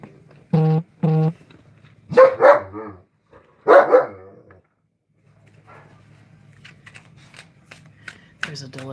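Dogs bark at a delivery person outside, a few sharp separate bursts with pauses between them, close and loud, and a person speaks softly in the gaps.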